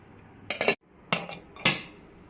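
Soaked sago tipped into a metal pressure cooker for payasam, three short bursts of clinking metal and scraping, a spoon knocking against the pot, in a quiet kitchen.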